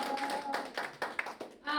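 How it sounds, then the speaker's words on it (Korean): An audience claps together at a lecture, quick broadband bursts of applause mixed with a voice talking over them, moderately loud and close. "자, 여러분 신나게 한번 박수 한번 쳐주십시오."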